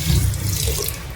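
Water pours steadily into a pot on the stove for making sugar syrup, a close, continuous splashing gush.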